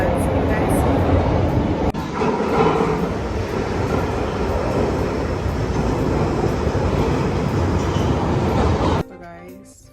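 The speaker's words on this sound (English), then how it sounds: "So I think my train is coming" A train pulls into a London station with a steady rumbling roar and rushing noise that runs throughout, and a faint voice carries underneath before the sound drops away near the end.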